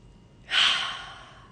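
One deep breath drawn in during a guided gratitude meditation: a single close, breathy inhale that swells quickly and then trails off gently, with no other sound.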